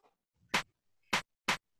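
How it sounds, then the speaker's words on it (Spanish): An electronic clap sample in a produced track sounds three times, sharp, bright and dry, with irregular gaps between hits and near silence around them. "Por aquí hay un sonido como de un, creo que es un clap."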